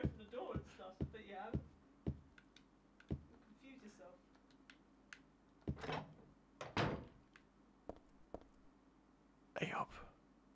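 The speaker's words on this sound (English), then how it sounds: "That's a door." A door opening in the video game Silent Hill 3, heard as several scattered knocks and clunks amid faint movement sounds, with a quiet voice talking nearby.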